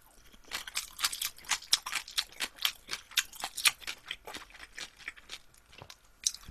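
Pickled yellow radish is chewed close up with steady, rhythmic crisp crunches, each bite sharp and evenly spaced over several seconds, with no talking.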